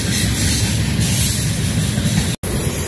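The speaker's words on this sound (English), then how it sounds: "Well, train's still going by" A train rolls past in the Mojave Desert, a loud, steady roar of rumbling wheels and wind noise filling the whole stretch, with a brief dropout near the end.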